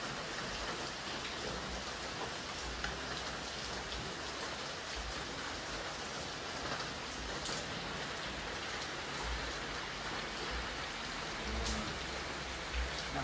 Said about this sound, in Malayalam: മഴയുണ്ട്, ഫുൾ ടൈം മഴ.